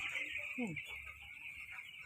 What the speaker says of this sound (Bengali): এখানে মোটামুটি 700 চিক্স আছে